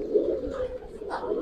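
Giribaz pigeons, a male and a female, coo at close range in a soft, low, continuous murmur, with a higher note near the end.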